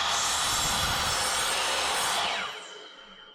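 A miter saw trims a thin slice off a wooden piece for an outboard motor stand, giving a loud, steady whirring cut for about two seconds before the blade spins down and fades.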